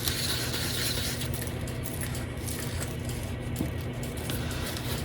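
Vacuum chamber used for degassing resin running continuously, a steady mechanical hum and rumble with a faint whine, unchanging throughout with no voices.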